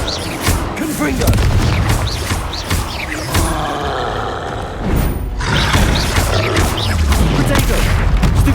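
Repeated Confringo blast spells exploding in Hogwarts Legacy, heavy booms and bursts spread across a busy stretch of combat noise, with a voice speaking over the fighting.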